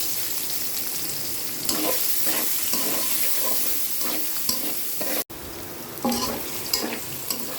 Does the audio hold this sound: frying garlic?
yes